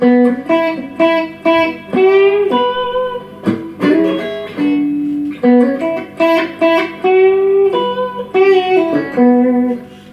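Electric guitar blues lick opening with two string bends, a string of picked, sustained notes rising and falling in pitch, played loud and close with a light overdriven tone and no talking.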